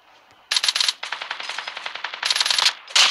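Rapid automatic gunfire in the video game Call of Duty, loud bursts of repeated shots with short pauses between them and no talk over them.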